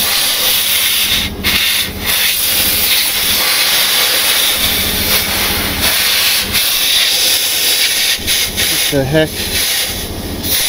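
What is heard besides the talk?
air leak hissing on a dump truck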